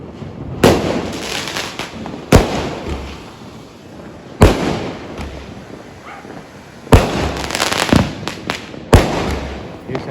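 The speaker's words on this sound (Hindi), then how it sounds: "हर बार दिवाली पे आतिशबाजी लेकर के आते हैं।" Repeated sharp Diwali firework bangs and crackles burst every couple of seconds, fairly close, over a steady background hiss with faint voices in between.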